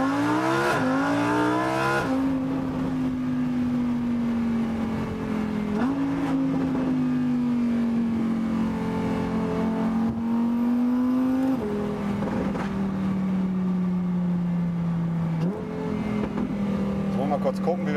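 A Lamborghini engine drones steadily while driving along village roads, its pitch climbing and dropping with each gear change, heard from inside the car under people talking.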